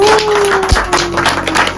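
A short burst of applause and clapping from a small group greets a cake given as an anniversary gift at a parents' 35th wedding anniversary celebration, with a sustained tone and some voices in the background.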